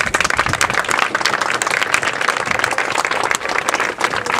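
A gathered group applauds the student association president, brisk, close, lively clapping from a modest crowd that keeps a fairly even level throughout.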